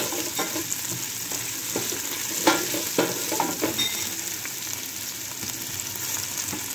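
String beans, carrots and potato stir-fry in a hot pan for a teriyaki salmon meal, giving a steady close sizzle broken by a few sharp clacks of a utensil stirring.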